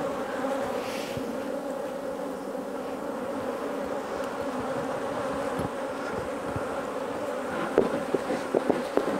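Honeybees buzz steadily around a queenless hive as honey frames are pulled, a close, continuous drone with a few sharp clicks and knocks near the end and no talk.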